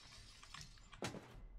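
Glass shatters once in the video game Prey, a brief bright crash that follows quiet background ambience and is fairly faint overall.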